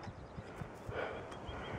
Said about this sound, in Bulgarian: Страхотен бяг на конете.